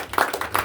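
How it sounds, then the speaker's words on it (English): Audience hand clapping at a church gathering for Byron Owens, fairly close and uneven, a handful of distinct claps in a loose rhythm. "So if you guys can give a round of applause for Byron Owens."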